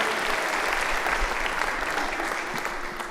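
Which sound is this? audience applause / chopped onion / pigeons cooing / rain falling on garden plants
audience applause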